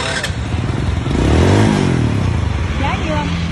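A used motorcycle engine idles and revs briefly near the microphone, a throaty rumble that swells mid-clip while someone talks over it.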